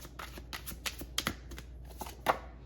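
Tarot cards handled and shuffled close by in a quiet room, a run of soft papery flicks and slaps with one sharper snap near the end, no talking.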